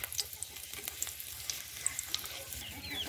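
Two bay leaves, two cardamom pods and one dried chili sizzling in hot oil in a wok, a faint crackling fry with small pops, steady and alone.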